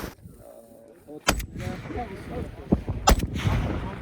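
Firearm shots at a shooting range in Armenia, with several loud, sharp reports at irregular intervals and people talking between them.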